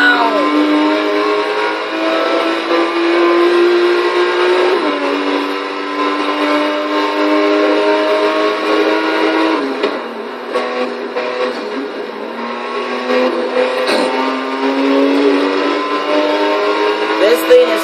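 A 2016 BMW M4 GTS in Forza Horizon 3 revs and pulls hard, heard from the interior: a loud, continuous engine note climbing through the gears with brief dips at the shifts, while someone talks excitedly over it.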